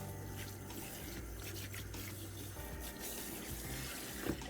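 Water from a tap splashes and drips onto a hair system as it is wetted before shampooing, a quiet steady trickle with occasional drips, close by and without voices.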